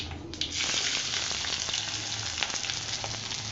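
Green chillies and onions sautéing in a hot pan for tomato chutney, a loud continuous sizzle with crackling pops and occasional stirring scrapes, close up.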